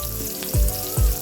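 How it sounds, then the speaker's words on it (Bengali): Onions frying lightly in a pan toward a pale brown give a close, steady sizzle, with two dull thumps from stirring or handling. "পেঁয়াজটা হালকা করে একটু বাদামি বর্ণ করে একটু ভেজে নেব বেশি ভাজবো না"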